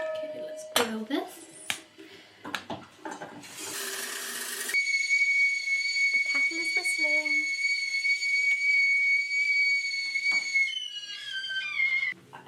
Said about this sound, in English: I both absolutely hate the whistling of a kettle and I love it.